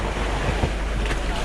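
Rough open-sea waves in the West Philippine Sea heard from a small boat, a loud continuous roar of churning water and wind buffeting the microphone, with no voices.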